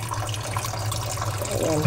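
Tap water runs in a kitchen sink while sinigang na bangus is prepared. The flow gives a steady, close rush that swells slightly toward the end.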